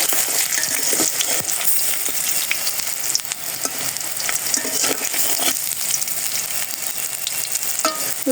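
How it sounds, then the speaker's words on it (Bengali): Bora fritters frying in a pan of oil, a loud continuous bright sizzle with occasional sharp spatters and scrapes, heard up close with no one speaking. "এই পাশে যে বড়াগুলো ভেজে নিচ্ছি।"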